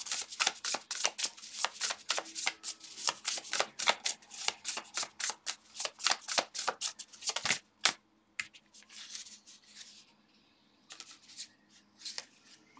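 Tarot cards are shuffled by hand in rapid, close riffling bursts of papery flicks and slaps, busy at first and then thinning to sparse, quieter handling.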